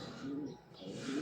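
Young racing pigeons cooing in a loft, two soft low murmuring coos close by, separated by a brief pause, over quiet background rustle.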